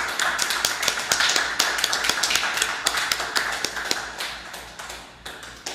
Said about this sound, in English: I now invite all our guests here to give them a very hearty round of applause for that accomplishment